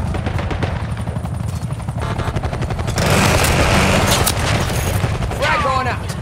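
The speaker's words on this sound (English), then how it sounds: "Enemy watchdog helo inbound." Enemy Watchdog helicopter in Call of Duty Black Ops 6 multiplayer, a steady rotor drone running throughout, joined by sustained gunfire and a louder burst of action midway, with game voice callouts.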